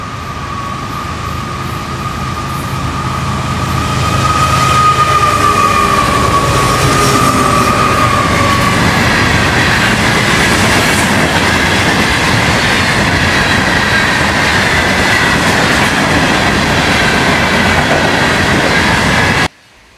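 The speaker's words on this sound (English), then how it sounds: "Soon after, train 101 can be seen storming south through Pompono Beach." Florida East Coast Railway train 101 storms south through Pompano Beach, a loud continuous roar of wheels and rail clatter building up and holding steady close by, with a faint squeal early on, then cutting off abruptly.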